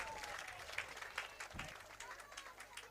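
A crowd at a netball preliminary final between the Pigeons and the Panthers applauds and cheers continuously at a distance, with the sound fairly faint and steady throughout.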